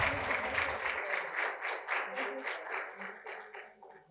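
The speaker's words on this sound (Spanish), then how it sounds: "Démosle un fuerte aplauso a Alexandra también por haber participado." At a book launch, an audience gives a moderate round of applause that swells and fades over about four seconds, with a voice talking faintly underneath.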